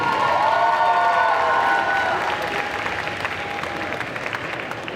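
An audience at a cosplay contest applauds a winner with loud, sustained clapping and a few cheers from the crowd, which taper slightly toward the end.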